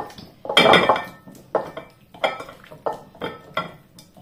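Chicken wings being stirred with baking soda in a bowl give a series of loud clinks and scrapes of utensil against dish, one long burst followed by several shorter, evenly spaced strokes.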